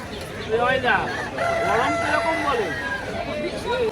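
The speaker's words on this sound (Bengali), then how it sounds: "দেখো কালো মুরগি, বুঝছো? কালো মুরগি।" Black chickens at Galiff Street pet market in Kolkata crow loudly and cluck up close. Several overlapping calls rise and fall over a murmur of market crowd and voices.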